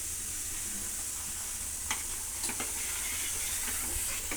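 A pot of coconut milk rasam bubbles and simmers with a soft continuous hiss, occasional small pops and clinks rising above the steady boil.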